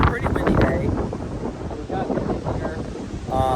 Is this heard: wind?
yes